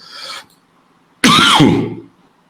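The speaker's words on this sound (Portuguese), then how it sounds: "desculpa aí as tossidas" A person gives one harsh, raspy cough close to the microphone after a short breathy sound, then silence.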